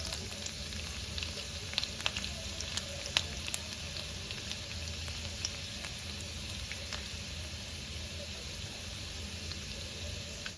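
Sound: finely chopped garlic frying in tempering oil

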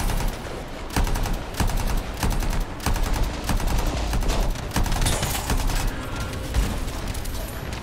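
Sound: enemy gunfire in the video game Anthem

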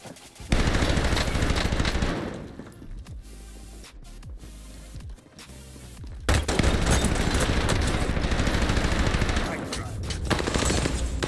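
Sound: gunfire in Call of Duty Warzone Pacific video game

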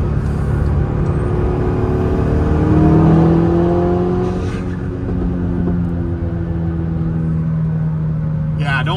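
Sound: big turbo Volkswagen Golf R accelerating

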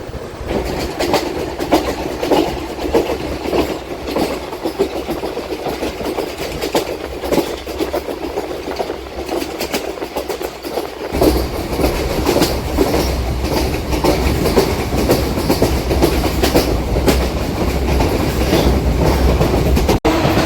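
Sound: DEMU train running on rails

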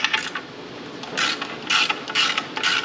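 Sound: tightening nuts

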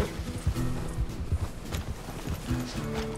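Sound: horse walking, clip-clop hooves, in video game Red Dead Redemption 2

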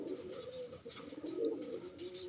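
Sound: pigeons cooing

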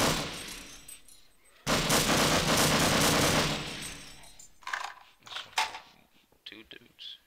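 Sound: gunfire in Half-Life video game

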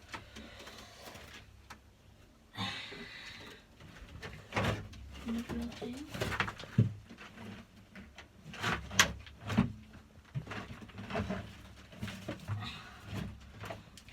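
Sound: birds at night

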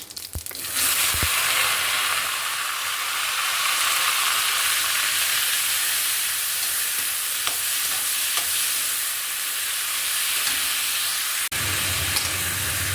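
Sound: finely chopped onion frying in whole spices

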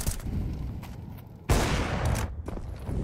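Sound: gunfire in the video game Counter-Strike 2

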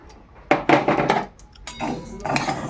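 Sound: mung dal being added to a wok

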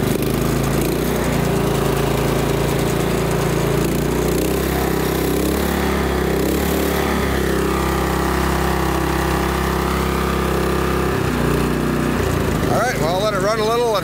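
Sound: gasoline engine running after starting, carburetor cleaner in gas

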